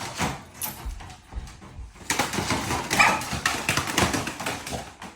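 Dog barking and scuffling during a fight between dogs inside a home, sharp bursts and yelps over rustling and thumps, close and busy through the second half.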